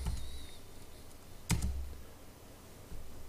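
A command is typed on a computer keyboard in a quiet room: a few soft, scattered key clicks over low background hiss, with one sharper double tap in the middle, all faint and close.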